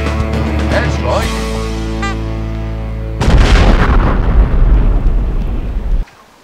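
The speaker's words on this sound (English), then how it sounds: "Craig, use Airstrike" An animated parody's airstrike attack effect: a tonal, whistling buildup gives way to a heavy booming explosion. The rumble sustains loudly for several seconds, then cuts off abruptly into quiet.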